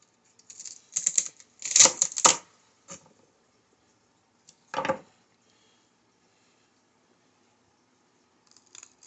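A knife cuts the ends off celery in a home kitchen, giving a few crisp chopping clicks and crunches in short bursts, then a single later cut, close and distinct with silence between and no speech.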